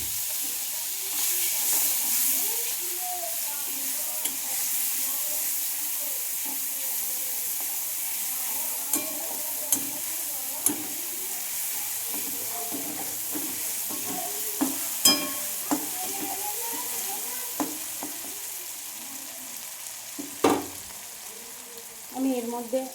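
Onion paste sizzles in hot oil that was just used to fry potatoes, a steady, moderately loud frying hiss broken by scattered clicks and scrapes of stirring.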